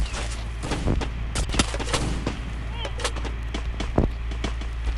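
Gunfire in the Free Fire battle royale video game comes in rapid, sharp bursts of shots, some loud and close and others more distant, in a continuous exchange.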